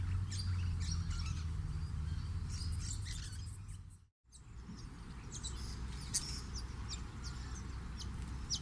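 Musk lorikeets give sharp, high chirps and screechy calls in scattered bursts over a steady low background rumble, with a brief dip to near silence midway through.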